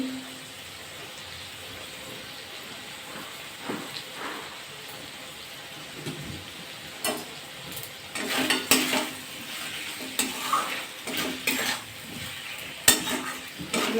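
Cabbage and prawns are stir-fried in a pan with turmeric and salt, with soft sizzling under intermittent scraping and clattering of a spatula against the metal that grows busier toward the end.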